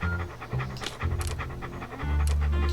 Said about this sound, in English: Hello, little doggy.